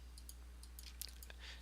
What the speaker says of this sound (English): I can grab these guys and hit C on my keyboard